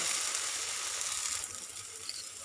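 A set dosa sizzles on a hot pan while its other side cooks, giving a steady, close, hissing fry that fades slightly toward the end, with no talking.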